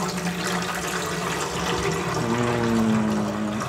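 Filtered water pours steadily into the tank of an Elechomes humidifier, a continuous close splashing and filling rush with a rising tone as the tank fills, heard alone with no talking.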